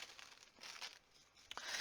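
A plastic bag crinkles and rustles as it is handled while being filled with small craft pieces, continuous soft crackling with a sharper crunch near the end, close and fairly quiet with no talking.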